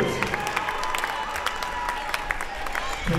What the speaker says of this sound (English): Fans, one more round of applause for all your 2018 seniors.